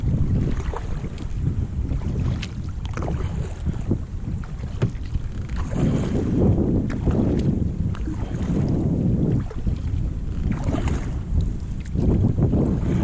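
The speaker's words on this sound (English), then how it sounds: "A little breezy today, so I decided not to go kayak out in the bay or the Gulf." Breezy wind rushes and buffets steadily around a Pungo 120 kayak on a Florida river, with soft water and paddling noises underneath and no talking.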